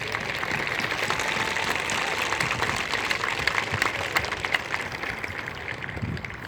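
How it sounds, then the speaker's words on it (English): Crowd applause at an outdoor high school graduation ceremony, a steady dense wash of many hands clapping at moderate level throughout, with no talk over it. "Please give them a round of applause."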